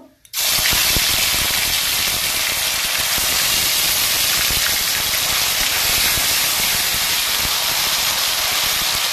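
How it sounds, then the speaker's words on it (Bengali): Ginger and garlic paste frying in hot oil in a kadai, a loud, steady hiss and sizzle that starts abruptly and continues evenly close by with no talking. "আদা রসুন একসঙ্গে পেস্ট করে রেখেছি, ওটা তেলের সঙ্গে ভেজে নেব"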